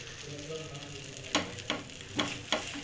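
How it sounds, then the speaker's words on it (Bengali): Vermicelli and jaggery sizzle steadily in a pan, close and soft, while four distinct stirring scrapes cut through the frying in the second half. "দিয়ে ভালোভাবে মিক্স করে নিচ্ছি আমি, যতক্ষণ না গুড়টা ভালোভাবে সেমইয়ের সঙ্গে মিশে যাচ্ছে"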